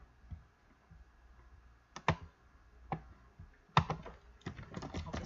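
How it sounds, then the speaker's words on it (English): Keys clatter on a computer keyboard in a few quick bursts separated by short pauses, close and fairly quiet, with sharper clustered strokes toward the end. "I'll just type it."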